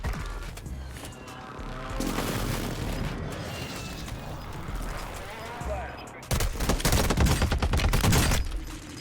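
Video game airstrike in Warzone 2: rapid bursts of gunfire and heavy explosions rumble continuously, swelling into a louder, denser barrage near the end, with a voice speaking briefly in the mix.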